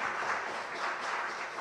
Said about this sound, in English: So let's give a big round of applause for all of us.